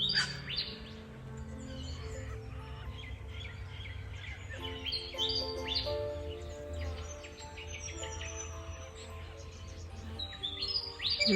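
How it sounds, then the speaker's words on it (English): Garden birds sing steadily on a sunny morning, with bright overlapping chirps and trills of varying loudness throughout and no talking, while bees are active around the treetops. "The bees are up and the birds are out."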